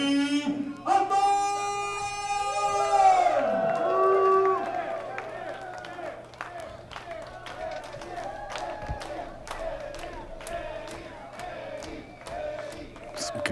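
Wrestling crowd cheers and claps for the entrance of Eddie Osbourne, a 333-pound wrestler from Campbell River, British Columbia, at a triple threat match; an announcer's drawn-out call opens, then steady crowd noise with sharp claps and shouts continues throughout.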